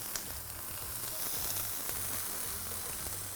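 Mushrooms frying in a pan, a dense steady sizzle with crackling pops, close and fairly loud, with a low background hum and no talking.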